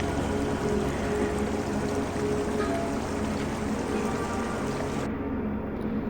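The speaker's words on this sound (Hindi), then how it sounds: "नाव में बैठ के गंगा को देखना लगता है जैसे पानी भी बनारसी स्टाइल में ही मस्त है, धीरे धीरे बहना बिना टेंशन के" Ganga river water drifting slowly past a boat in Banaras: a steady, broad wash of flowing water that stays even and continuous throughout, fairly loud and close, with no voices.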